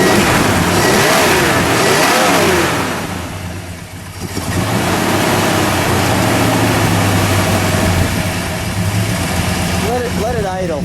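Engine of a red 1960 Plymouth Fury convertible revving loud and close, a sustained roar that dips briefly, then climbs again and holds steady, with rising and falling pitch sweeps near the end.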